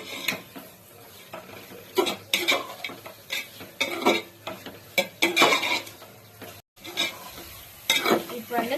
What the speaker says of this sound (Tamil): இப்போ வந்து நம்ம மசாலா கூட நல்லா இந்த சிக்கன் மிக்ஸ் பண்ணி விட்டுட்டோம்